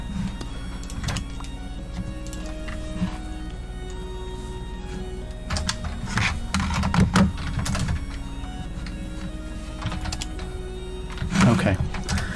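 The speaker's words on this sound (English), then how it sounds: "I'm just going to use the keyboard for now." Computer keyboard typing during a game-making session: irregular clusters of key clicks and clacks over a steady background hum of tones, with a person talking nearby.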